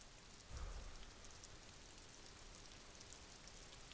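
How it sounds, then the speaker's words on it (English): Steady rain falls in the Disco Elysium video game, a dense, even hiss that is fairly loud and close throughout, with a brief low rumble near the start and no talking. "Such gentle weather. Even the rain feels nice."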